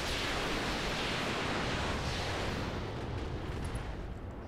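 Mech weapons firing together in the video game BattleTech RogueTech, a dense, loud roar of overlapping blasts and explosions that fills the whole stretch and eases slightly toward the end.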